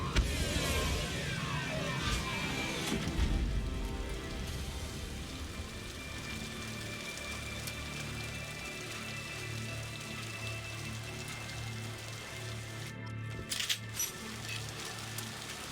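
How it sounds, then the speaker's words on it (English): Rain in the Mass Effect 2 video game: a dense, steady patter and hiss of falling rain with scattered droplet ticks, continuing at an even level throughout. "One thing that I always thought was really impressive here was the rain effect."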